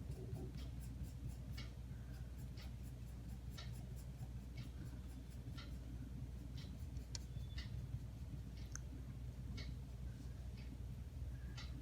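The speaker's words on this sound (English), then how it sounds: "Now I will move my pencil in opposite direction." A pencil cross-hatches on paper in steady scratchy strokes for art file work, a continuous close rasping with faint ticks and a low background hum, no talk over it.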